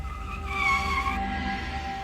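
A car pulls up and brakes with a sustained tire squeal, the screech rising and then dropping off over a low engine rumble, fairly close and with no talk over it.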